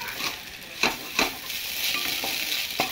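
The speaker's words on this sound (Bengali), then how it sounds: "ম্যাগি মশলাগুলো দিয়ে আবারও ভালো করে নেড়ে চেড়ে নেবো।" Maggi noodles tossed with two packets of masala in a pan sizzle gently while a utensil scrapes and knocks against the metal in several separate strokes, close by and with no voices.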